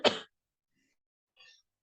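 A single short, sharp cough close to the microphone, then a faint breathy noise after a pause in an otherwise quiet room.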